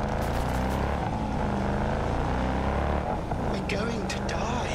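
Car in the Cyberpunk 2077 video game driving with a steady engine drone and shifting pitch, close and continuous, while voices talk over it.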